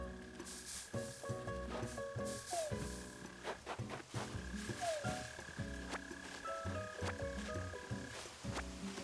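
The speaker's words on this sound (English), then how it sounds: "Oh my god, I hate mole crickets so much." Mole crickets chirp in Animal Crossing: New Horizons, a steady low buzzing trill that repeats in pulsing bursts under soft game background music.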